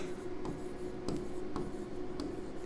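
Someone writes on a board during a digital electronics lecture, producing close, scratchy strokes with short taps and pauses, and no talking.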